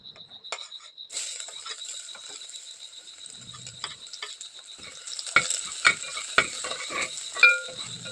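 Garlic fries in a pan for ginisang munggo with cauliflower, a steady bright sizzle broken by sharp scraping stirs and clinks that grow more frequent near the end.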